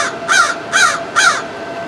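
Three loud, close crow caws, evenly spaced about half a second apart, heard alone with no talk, a crow calling near a parked Nissan Leaf at a charging stop.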